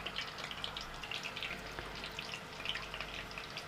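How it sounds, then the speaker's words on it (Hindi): A katori chaat basket deep-frying on a greased spoon in hot oil, giving a continuous dense crackling sizzle with fine popping bubbles, close and steady throughout. "अब इसको हम इसमें ऐड करेंगे, फ्राई करेंगे, डीप फ्राई"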